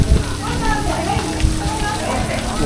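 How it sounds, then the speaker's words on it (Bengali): Heavy rain and gusty wind on the Yamuna bank in flooded Vrindavan, with a dense spatter of drops and rough wind rumble, bumps and knocks near the microphone, and a person speaking over it. "বৃষ্টিও থামছে না, হাওয়াও কমছে না।"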